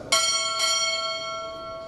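A ship's bell is struck twice at a U.S. Navy chief petty officer pinning ceremony, two bright, ringing strikes about half a second apart whose long metallic tone sustains and slowly fades.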